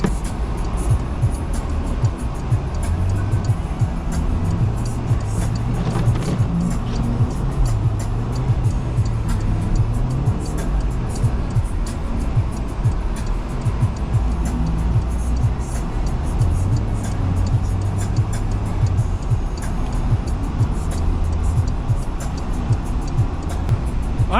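A Porsche drifts through deep snow during a record-breaking snowstorm, its engine droning loud and steady with rising and falling revs, and a continuous rush of snow and road noise throughout.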